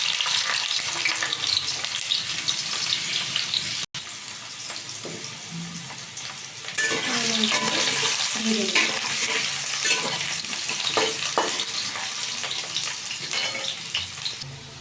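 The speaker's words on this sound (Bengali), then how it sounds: "কেটে রাখা যে আলুগুলো ছিল সেই আলুটাকে ভেজে নেব।" Cut potatoes deep-frying in oil with cinnamon and cardamom, a loud dense bubbling sizzle that briefly cuts out and then surges stronger with stirring clatter, no talking.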